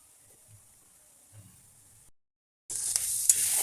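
Pork steak stir-frying in a pan, a faint quiet hiss at first, then a sudden loud bright sizzle as the meat hits hot oil and keeps crackling steadily.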